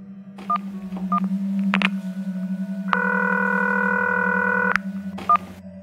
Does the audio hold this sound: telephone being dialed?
yes